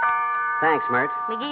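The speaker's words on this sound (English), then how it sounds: "that was the doorbell" A doorbell rings as a radio drama sound effect in an old-time comedy broadcast, a sustained multi-tone chime sounding steadily beneath a voice speaking over it.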